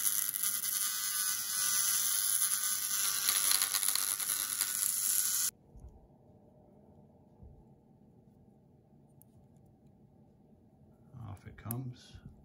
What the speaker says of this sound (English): So with the Dremel, and just being real careful not to touch the wheel.